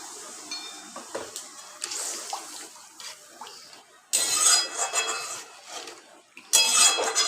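Milk pours into a pan of spiced paneer curry on a gas stove, a soft liquid splashing with clinks of metal cookware and utensils, quiet then growing louder in bursts.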